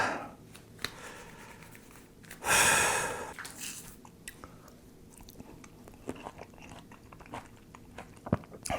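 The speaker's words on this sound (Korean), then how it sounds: "아 하나만 더 먹자" Someone bites into food with a loud crunchy snap, then chews steadily at close range, the mouth sounds soft and irregular, with occasional breaths between bites.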